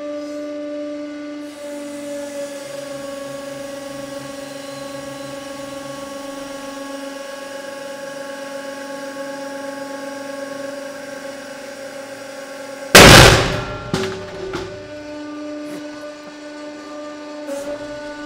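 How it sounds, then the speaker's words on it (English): A hydraulic press hums steadily under load while crushing a brass part, until a sudden loud crack-like burst marks the part giving way, followed by the hum continuing. "I'm going to crush this until it starts to slightly explode"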